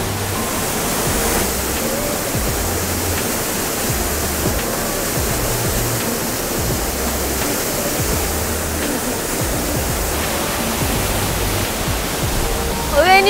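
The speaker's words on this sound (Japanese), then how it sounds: "すごいな、なんか滝ってパワーもらえますね。" A steady, dense roar of falling water fills the whole clip, broad and constant like a nearby waterfall in Ashiya, Japan, with no pauses.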